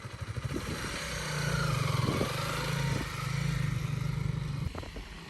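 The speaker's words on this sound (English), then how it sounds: "we're gonna roll on the throttle, we're gonna release the clutch" A Honda CRF300L Rally motorcycle pulls away as the throttle is rolled on, its single-cylinder engine thrumming with a steady pulsing putter that swells and eases through smooth riding, heard close and with no talk over it.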